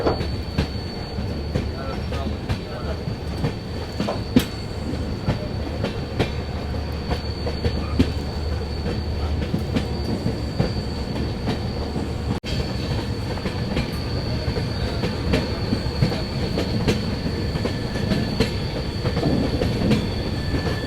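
The Agartala Tejas Rajdhani Express rolls along steadily with a banker locomotive attached, its wheels rumbling and clicking over rail joints with a faint high squeal, heard from inside the train.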